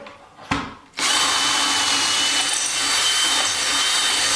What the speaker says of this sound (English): I'm gonna go through the center drill bit,